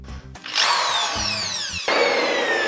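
A power drill bores into a kitchen wall during home DIY work, giving a loud, close, continuous high whine that dips briefly and then starts again with a fresh burst, with no talking over it.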